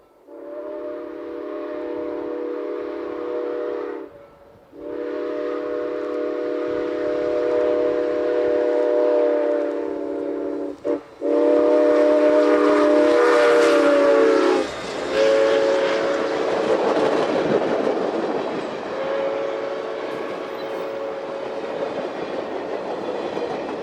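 U.S. Sugar steam locomotive 148 rolls by near Childs, its chime whistle blowing in long, loud blasts with brief gaps, then the close rumble and clatter of the passing train as the whistle sounds again; no voices.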